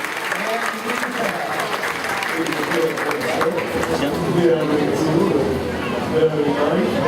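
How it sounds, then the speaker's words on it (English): A crowd at a big cat rescue show claps in steady, sustained applause that fills the space from start to finish, with light crowd noise mixed in. "How about a great big round of applause for Barry and Mia."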